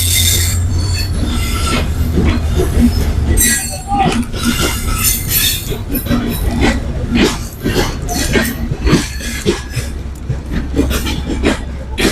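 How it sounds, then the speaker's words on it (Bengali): A train pulls out of Dhaka's airport railway station, loud and close, with heavy rumbling wheels, rhythmic clatter over rail joints and sharp metallic squeals, while voices carry faintly around the platform. "এটা বিমানবন্দর রেল স্টেশন থেকে ট্রেনটা সারা যাইতেছে"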